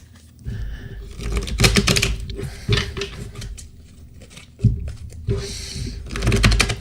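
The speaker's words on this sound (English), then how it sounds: "let's shuffle the cards." Stiff tarot cards riffle and flap in bursts of crisp, rapid clicking, pausing between shuffles, close by with no talking.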